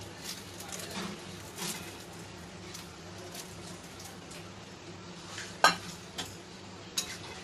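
Metal spoon stirring sago pearls in a pan for mango payesh, a steady soft scraping and faint sizzle with a few sharp clinks near the end.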